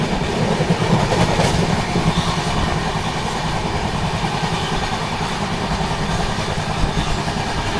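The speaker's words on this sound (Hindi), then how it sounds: "ओहो क्या ट्रैक साउंड है" Wheels of the Dibrugarh Rajdhani Express clattering over the track at speed, a dense continuous rumble with rhythmic clicks heard from inside the moving train.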